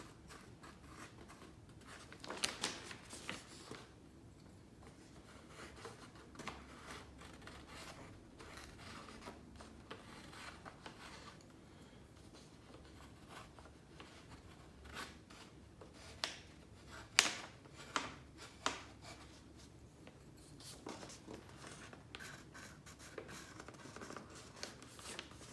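The side of a pencil lead rubs across paper held over a motorcycle fairing for a custom FZ07 mod. The close, quiet scratching runs in irregular strokes, with scattered sharper ticks and scrapes toward the end, and no voices.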